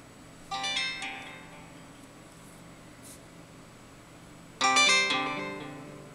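A custom ringtone made in GarageBand 1.1 on an iPad plays twice, each a bright chiming burst of tones that rings out and decays, separated by a few seconds of quiet.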